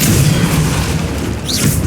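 A Depulso force spell is cast in Hogwarts Legacy, releasing a loud, rumbling magical boom that fills the moment with a heavy, sustained blast.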